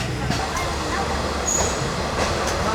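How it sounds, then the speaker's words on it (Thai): The Yangon Circular Train rolling along its rails in Myanmar, a steady rumbling wheel-and-carriage noise with faint rhythmic clacks and a brief high squeal, heard from inside the car with people talking softly beneath it. "เรานั่งรถไฟแบบนี้นะ"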